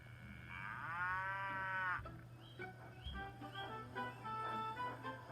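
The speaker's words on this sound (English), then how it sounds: "Thomas saw a cow on the tracks in front of him." A single long, deep cow moo rises and holds for about two seconds, followed by quieter mixed background sounds and a steady low hum.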